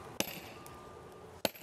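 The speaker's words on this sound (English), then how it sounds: "That's right, work that hammer." Two sharp metallic hammer strikes ring out about a second and a quarter apart in a Spider-Man video game, each a bright, brief clang over a quiet background hum.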